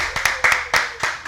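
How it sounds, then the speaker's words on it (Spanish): A small audience claps to welcome Dr. Omar Fonseca on an obesity talk show, sparse, distinct claps from a few pairs of hands in an uneven rhythm, close and clear. "le damos un aplauso para la bienvenida al doctor Omar Fonseca"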